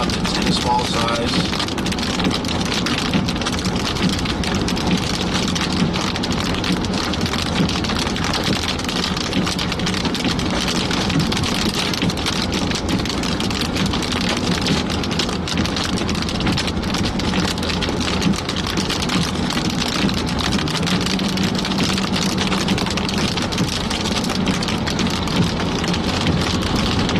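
Heavy rain pours steadily and loudly on surfaces during a severe tornado-warning thunderstorm with large hail in the Dallas–Fort Worth area, a dense continuous roar with faint low rumbles beneath.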